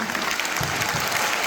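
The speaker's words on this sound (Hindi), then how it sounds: "लोगों के लिए तालियां बजाने का।" Steady, dense applause from an audience at an Adivasi tribal culture event, a continuous wash of hand clapping lasting the whole moment with no voices on top.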